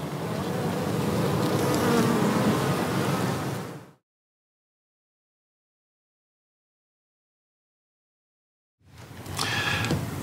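Caucasian honey bees swarm in an apiary with a dense, steady buzzing that is close and full, cuts off into silence, then returns briefly.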